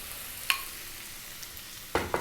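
Tofu pieces dropped into a hot pan for a vegan tofu masala curry, giving a couple of sharp clattering hits under a steady low sizzle, close and fairly quiet with no talk.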